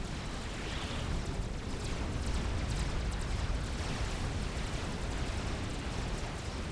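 Continuous rumbling artillery fire and explosions in the strategy game Supreme Commander, a dense, unbroken wall of booming blasts and roar, loud and sustained with no talk.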